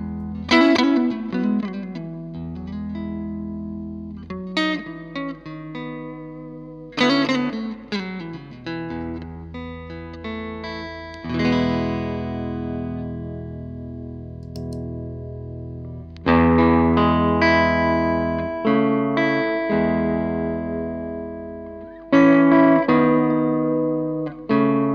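Distorted electric guitar plays chords and sustained notes through effects, with long ringing decays between phrases and no voices.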